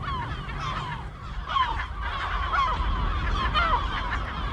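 Gulls swoop low over a small islet, calling noisily in a dense, continuous chorus of harsh, wailing cries at close range.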